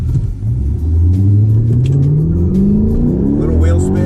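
A 2012 Hyundai Genesis 5.0 R-Spec V8 with 140,000 miles launches hard with traction control off, its engine climbing steadily in pitch as it accelerates, loud and close under some talk.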